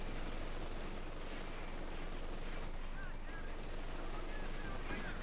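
Machine gun fire in the Company of Heroes 2 strategy game, rapid bursts of shots under a dense, constant din of battle noise with distant explosions and a voice commentating over it.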